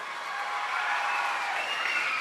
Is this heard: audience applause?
yes